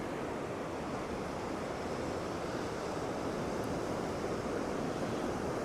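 Waves and surf roll steadily onto a busy beach at Upgang during a summer sea-fishing match, a continuous broad wash with wind buffeting the microphone, loud and close, with no talking.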